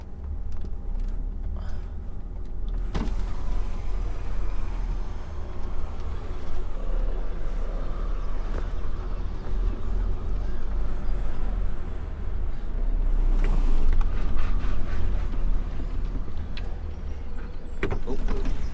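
A truck engine labouring while towing a wool trailer through a dip, a steady loud low rumble throughout with brief clunks and hisses as gears change and air is added to the drive axle.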